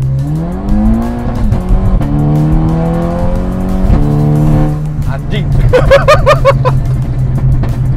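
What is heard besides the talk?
car accelerating hard on a toll road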